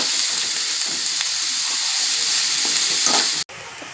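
Onions fry with salt in a pan for curry, a steady bright sizzle with light crackling that continues evenly, ending with a brief cut before resuming, with no talk.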